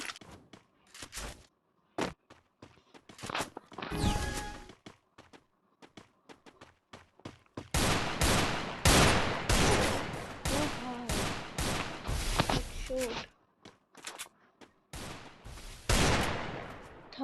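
Gunfire in the shooter game Lone Wolf, with bursts of rapid automatic fire and single loud shots in uneven clusters, a long dense volley in the middle, with players talking between shots.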